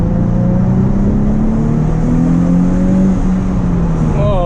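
Engine of a 2003 Nissan 350Z Track Edition rolling slowly in second gear, heard from inside the car as a steady, loud, low drone with a slight rise in pitch, with no talking over it.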